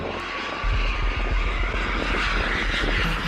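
Private jet belonging to an events company, engine roaring steadily and loudly at close range, a broad continuous drone without voices.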